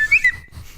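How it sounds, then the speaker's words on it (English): A slide whistle gives two quick bright rising toots near the start, each followed by a held high tone that fades, and then the clip goes quiet, with low rumble only. "We finally get a working slide whistle."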